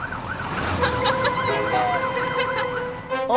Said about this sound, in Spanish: Fiona, el camión de bomberos ya está en camino.